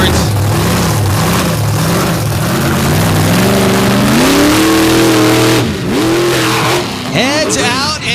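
A tuff truck engine revs hard through a mud bog at the Bloomsburg Show, rising and falling in loud sustained surges with a commentator talking over it.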